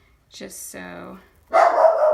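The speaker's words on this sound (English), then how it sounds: "And I apologize for the barking" A dog barks outside while someone talks indoors; a short bark is followed by a louder burst near the end, with speech in between.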